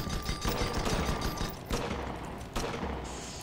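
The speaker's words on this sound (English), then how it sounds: "I'm using my long range weapon," A long-range weapon firing in an airship combat video game with long-range speed ammo, heard as a continuous, loud stream of shots and blasts with a couple of sharper bursts, and no talk.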